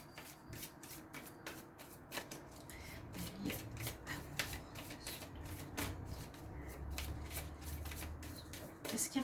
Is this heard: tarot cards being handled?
yes